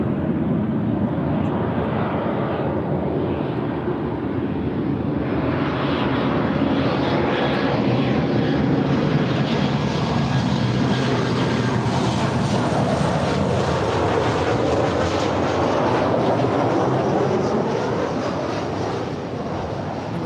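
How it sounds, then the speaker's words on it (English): A United Airlines Boeing 737-900ER jet at LAX produces a loud, sustained roar that swells and shifts as it passes, heard close and continuous with no talk. "This is United Airlines 1484 coming from Las Vegas. It's a 9-year-old 737-900ER."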